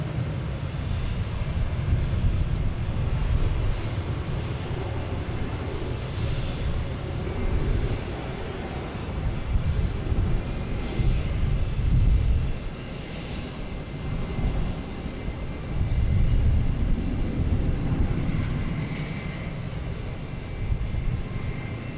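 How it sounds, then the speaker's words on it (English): Jet airliners taking off at Boston Logan Airport, including United and Frontier planes, give a steady broad roar of engines at a moderate distance, swelling and easing in waves over the whole stretch. "there's some planes getting out there now"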